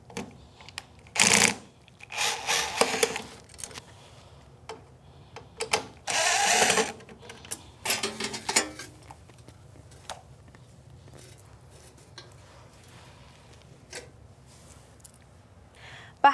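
Back panel coming off a Furrion 8 cu.ft refrigerator: a few loud bursts of clatter and scraping in the first nine seconds, then quieter scattered clicks and handling noises.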